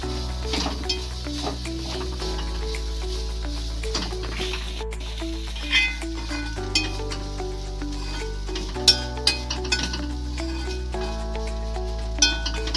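Banana peel thoran with coconut, salt and turmeric being cooked and stirred in a pan, with soft sizzling under steady spoon scrapes and occasional clinks of utensil on metal, close and continuous.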